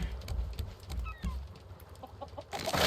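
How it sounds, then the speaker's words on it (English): Chickens clucking on a farm in the survival video game Raft, soft repeated clucks and a few higher chirps over a steady low background hum, moderately close and without speech. "Alright, so the chickens up front."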